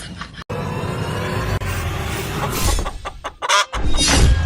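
A chicken clucks in short, close bursts amid some background rustle and noise, with the calls growing louder toward the end.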